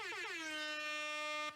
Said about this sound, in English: Would you like air horns?